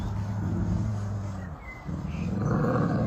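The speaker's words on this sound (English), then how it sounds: "So you're going to hear the growling going on," A dog growls low and steady while pinning an Australian Shepherd, a continuous rumbling snarl that briefly drops off and then swells louder and rougher near the end, close by with no talk.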